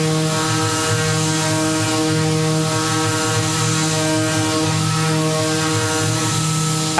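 A fan running with a steady tonal hum and whir, loud, close and unchanging throughout, with no voices.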